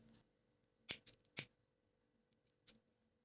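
Scissors snip through macrame cord for a mirror design, with two crisp close cuts in quick succession and a softer third snip after a pause, in a quiet room.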